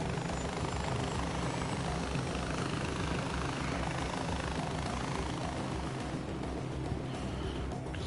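Helicopter in the video game Far Cry 4 flying and coming in to land, a loud continuous rotor and engine drone that stays steady throughout with no talking.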